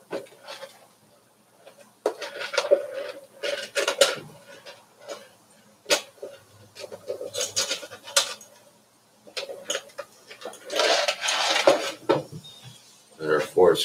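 Small metal screws for an RC truggy clink and rattle in irregular bursts as they are handled and sorted, close and fairly quiet, with short pauses between clusters of taps.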